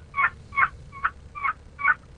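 A wooden box call imitates a turkey hen's call, producing five raspy, evenly spaced yelps that sound close and clear against a quiet background.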